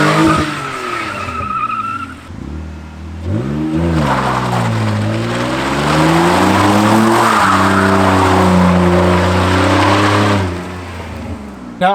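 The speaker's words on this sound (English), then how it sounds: "let's take it down to Mexico and let's do our first donut." A BMW E46 drift car fitted with a welded differential spins a donut, its engine revving hard and wavering in pitch while the rear tires squeal and skid continuously, loud and close for most of the run.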